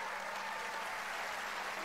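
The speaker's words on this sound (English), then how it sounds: "Give her a big round of applause," Steady applause from a crowd, clapping continuously and evenly for about two seconds.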